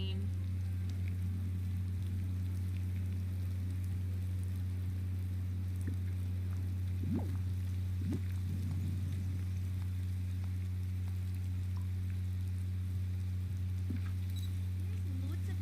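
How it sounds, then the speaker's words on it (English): Rain falls in the video game Disney Dreamlight Valley, a soft, steady patter and hiss that sits under a constant low hum throughout. "Oh yeah, I forgot about the rain."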